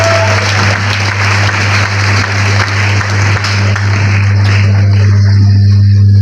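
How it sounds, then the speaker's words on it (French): Audience applause at a choir's anniversary concert, a sustained, loud wash of clapping over a steady low hum that thins and fades toward the end. "sous vos applaudissements s'il vous plaît."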